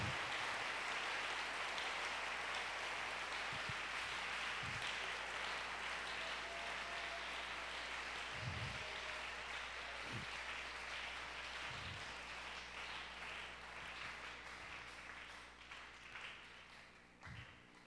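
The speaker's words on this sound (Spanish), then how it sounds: "Le damos un aplauso al Señor." A church congregation claps and applauds in praise during a worship service, a dense, steady wash of many hands filling the room for most of the stretch and thinning slightly toward the end, with no talk over it.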